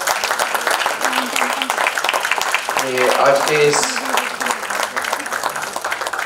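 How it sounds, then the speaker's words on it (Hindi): Applause from an event audience gathered to honour Bala Saheb Thackeray on his 98th birth anniversary, a dense sustained clatter that runs the whole time beneath someone speaking into a microphone. "जरा जोरदार तालियां हो जाए"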